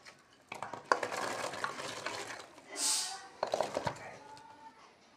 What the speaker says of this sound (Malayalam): ഇനി ഇത് വേവിക്കാനായി നമുക്കൊരു കുക്കറിലേക്ക് മാറ്റാം